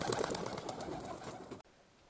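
Racing pigeons tumbling and wheeling in flight around their loft on an overcast day, a steady outdoor rustle and flutter with faint cooing underneath, ending abruptly into near silence.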